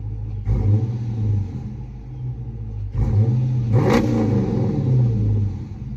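A Dodge Charger R/T engine with a throttle response controller in sport mode revs up repeatedly with throttle blips, rumbling low and loud, rising and settling in two or three bursts close by.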